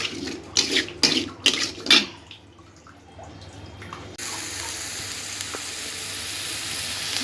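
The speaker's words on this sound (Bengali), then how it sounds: "আমার মশলা সব কষানো হয়ে গেছে সুন্দরভাবে" Spice masala fries in oil for a taro stem curry, opening with a few sharp bursts of stirring and sizzling, a quieter pause, then a steady, even hiss that carries on to the end.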